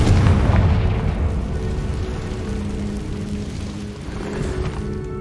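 A Confringo blasting spell explodes in Hogwarts Legacy, a heavy low boom at the start that rumbles and fades into lingering debris and ambient noise.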